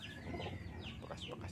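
A few chickens in a simple backyard coop give soft, close clucks and short vocal calls over faint background noise, with no talking.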